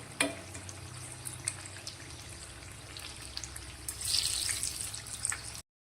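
A potato and poha snack fries in a little oil with a soft, bubbling sizzle and a few faint clicks, rising to a brighter, hissier patch near the end before cutting off.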